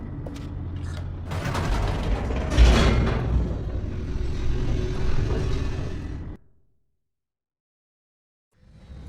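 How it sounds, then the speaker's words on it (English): Elevator in the video game The Stanley Parable descending with a loud continuous mechanical rumble, creaks and grinding, then cutting off abruptly into silence before a faint new sound begins. "The elevator raced downward, plummeting towards an unknown fate."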